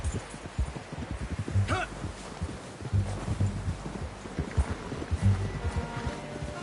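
Horse hooves clip-clop at a steady walking pace in the Western video game Red Dead Redemption 2, moderately close, under quiet ambient outdoor sound and occasional dialogue.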